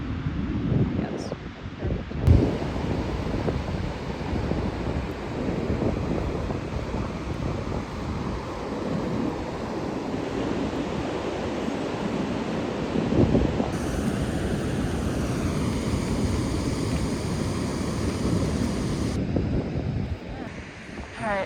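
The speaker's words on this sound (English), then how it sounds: "Man, those waves are crazy. They keep like shooting and like meeting each other." Ocean waves break and wash in on a black sand beach in Iceland, a continuous loud roar of surf heavily mixed with gusting wind buffeting the microphone.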